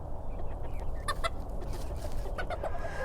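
Hens and roosters cluck in agitated bursts, several birds calling over one another against a steady low background rumble.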